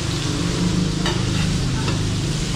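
Garlic and onion frying in a pan in a catering kitchen, a loud, close, continuous sizzle with occasional stirring scrapes and no talking.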